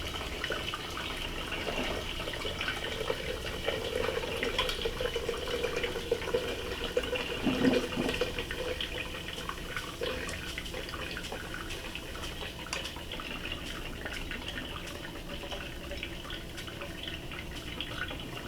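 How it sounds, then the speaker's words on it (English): Hot water trickles and splashes steadily onto coffee grounds in a coffee maker for the whole stretch, a soft continuous pour with small drips, fairly quiet and close. "you're going to take your hot water and you're going to wet these grounds"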